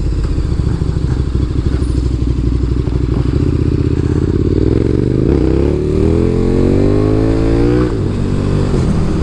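A KTM Super Duke 1290 R motorcycle engine under way, a loud, close, throbbing roar that rises in pitch as the bike accelerates, dips briefly and climbs again, with no talking.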